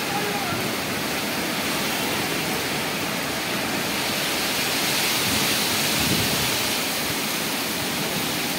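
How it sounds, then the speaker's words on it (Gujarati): Light rain falling over the city of Vadodara near Jubilee Baug, a steady, dense hiss that fills the whole stretch at an even level with no breaks. "હાલ પણ ધીમી ધારે વરસાદ વરસી રહ્યો છે"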